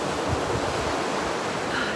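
Ocean surf breaking at a beach, a steady broadband wash of waves that stays loud and continuous throughout, with no voices.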